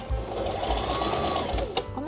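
A sewing machine runs steadily, stitching a waistband onto a thick tweed skirt, its rapid needle chatter close and continuous with a brief pause near the end.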